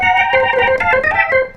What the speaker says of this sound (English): And then all sorts of different organs.